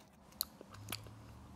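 A single crisp bite into a small crunchy cucamelon, a mini cucumber that looks like a tiny watermelon, giving a sharp close snap followed by brief quiet chewing.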